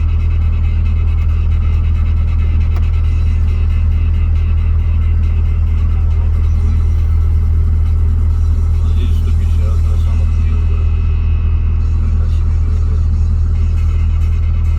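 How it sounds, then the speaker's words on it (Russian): Tractor engine hauling a vehicle uphill on a bad, accident-prone road, a steady loud low-pitched drone running throughout with faint traffic and wind noise mixed in. "Да, трактор. Вытаскивает на гору, сейчас посмотрим."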